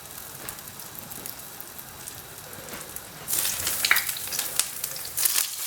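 Aubergine slices frying in oil, a soft bubbling crackle that suddenly swells into a loud, bright sizzle as more pieces go into the pan, close by with no voices.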